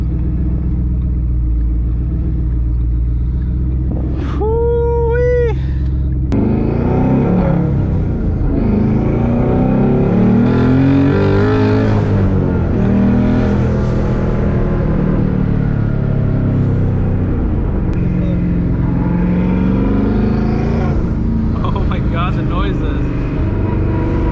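A twin-turbo Ford Mustang Boss 302 drives with a loud engine drone and shifting revs, its straight-cut gears whining under a voice that talks throughout.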